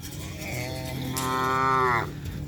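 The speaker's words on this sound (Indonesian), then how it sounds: "Ini sapi kecil." A young racing cow mooing at a cattle racing training field, one long, drawn-out, rising moo that is close and clear against faint outdoor background noise.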